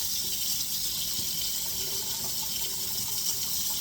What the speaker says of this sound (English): you're just going to use the water that comes out of the tap as hot as you can get it